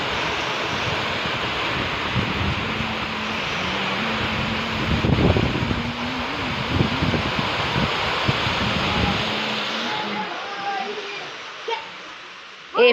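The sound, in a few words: rain falling in the village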